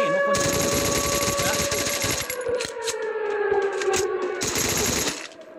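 Rapid automatic gunfire in Free Fire rattles in dense bursts near the listener, pauses briefly, then bursts again, with a faint voice underneath.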